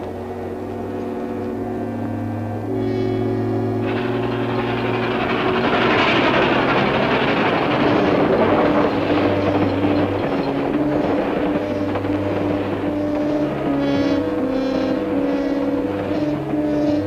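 The Tampico Express passenger train rolls along the rails, loud and close, with sustained rumbling, rhythmic clatter and ringing metallic tones swelling and holding without any talk.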